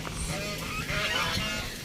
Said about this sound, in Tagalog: Ang ingay niya. Yan mga gansa.